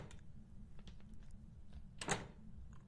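In the Phasmophobia VR game, a push door pulled the wrong way gives one dull, closing-style thud. It sits over a low, quiet ambient hum, with a few faint knocks before it.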